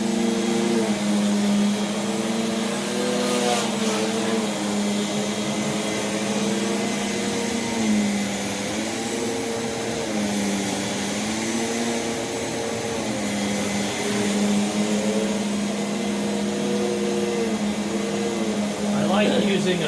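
A 1989 Rainbow D4C vacuum cleaner, refurbished, running steadily with a wide power nozzle, giving a loud, continuous motor drone with a wavering hum that lasts throughout while a person talks over it.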